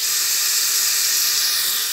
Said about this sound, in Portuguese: E aí tô refogando aqui e vou botar na pressão.